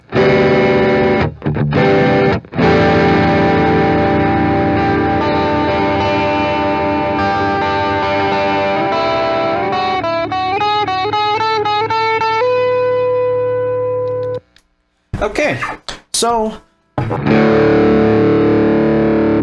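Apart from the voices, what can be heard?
guitar overdrive pedal at maximum gain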